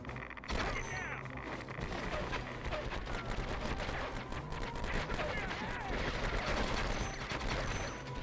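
Sustained automatic gunfire and explosions in the military shooter game Conflict: Desert Storm, loud, dense bursts running throughout with a mechanical rumble underneath.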